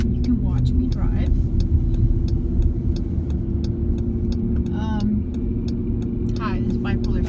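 A car drives along steadily, its engine and road rumble forming a constant loud drone throughout, with someone talking over it.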